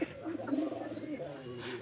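A pigeon coos in soft, rolling low notes close by, fairly faint, with a person talking over it.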